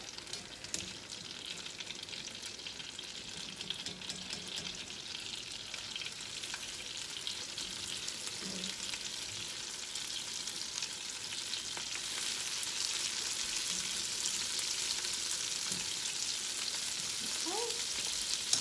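Puffy pieces frying in butter give a steady, close hiss and sizzle that builds slightly louder toward the end, with a few faint clicks of handling and no talking.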